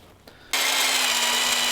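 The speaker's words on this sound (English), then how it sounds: "we're going to simply carefully drill out the primer pocket of that piece of brass with that jig body holding everything straight" A drill bores out the primer pocket of a soft brass cartridge case held straight in a modified-case jig; the steady, loud whine starts abruptly after a brief quiet moment and runs on continuously.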